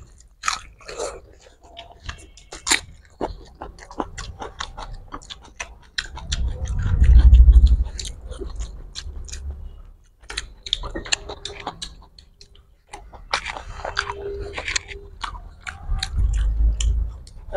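Close chewing and biting of spicy chicken curry with chilies, onions and rice during an eating challenge, crunchy irregular bites and mouth sounds up close with faint voices at times.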